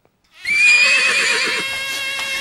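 A horse lets out a loud, close, drawn-out neigh in a scene from the Tamil film Azhagarsamy's Horse, the whinny quavering before it fades.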